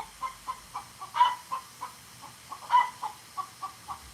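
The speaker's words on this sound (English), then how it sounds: "It's one of the other chickens." A chicken clucks in a steady, rapid series of short notes, with a couple of louder squawks standing out, close by and alone.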